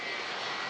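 An Airbus A320neo rotating on takeoff at Manchester Airport during a storm, its jet engines roaring in a loud, steady, broadband wash throughout the brief moment.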